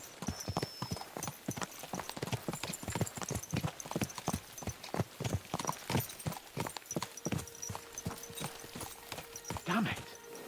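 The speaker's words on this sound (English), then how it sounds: "Let's really spur these horses on, eh?" Horses ridden at a steady pace in Kingdom Come: Deliverance II, their hooves clip-clopping in a quick regular rhythm, close and continuous, with a brief neigh near the end.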